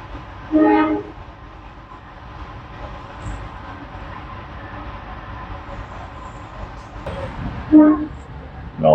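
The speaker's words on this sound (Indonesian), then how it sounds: "Oh, ini ada kereta lewat." A train passes Klaten station in Indonesia, a low rumbling roll heard through a carriage with two brief horn-like blasts near the start and end, fairly muted.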